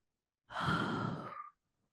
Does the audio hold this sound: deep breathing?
yes